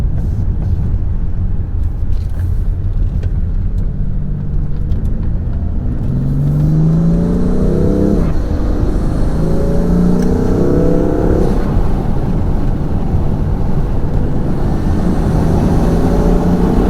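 A BMW M3 with new intakes pulling under load, its engine droning low as rising turbo spool whines sweep upward in a few repeated climbs. The sound is steady and fairly loud throughout, with no talking.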